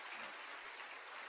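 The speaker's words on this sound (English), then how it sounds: "Somebody, one person clap." Applause fills a symposium hall during welcome remarks, a steady, fairly faint wash of clapping that sounds like more than one person and is heard alone without speech.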